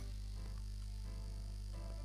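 Steady low electrical buzz from a room heater, running continuously as a constant hum beneath faint shifting tones, with no voices.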